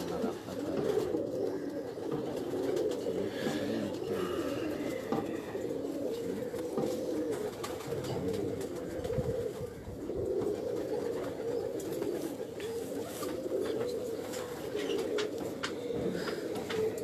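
Pigeons coo steadily on a rooftop, a continuous low murmuring of several birds close by, with no talk over it.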